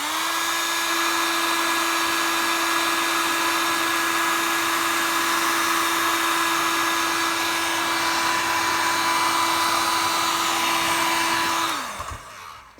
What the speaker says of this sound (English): get a hot air gun or a hairdryer